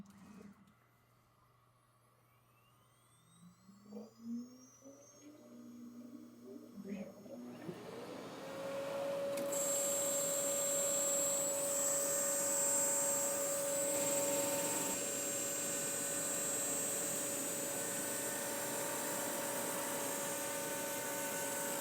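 A CNC router cuts a maze kit pattern with old flute bits, starting with quiet motor whine and rising ramps, then settling into a loud, steady cutting roar with a sustained high tone that carries on to the end.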